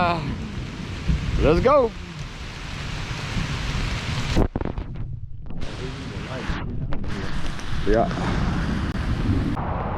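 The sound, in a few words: thunderstorm with rain and thunder on a trail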